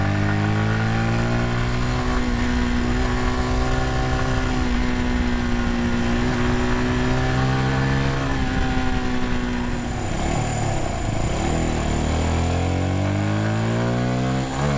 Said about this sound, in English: The bike has a little bit of a drone sound